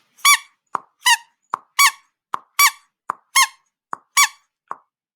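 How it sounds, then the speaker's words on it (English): Squeaky dog toy squeezed in a rhythm of about eleven short, sharp, high squeaks, alternating louder and softer, close and alone with silence between. "A dog toy is squeaky."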